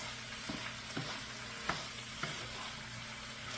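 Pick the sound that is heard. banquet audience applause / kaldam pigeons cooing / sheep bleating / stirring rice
stirring rice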